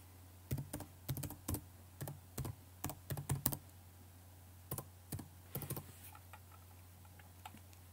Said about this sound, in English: Type user's password.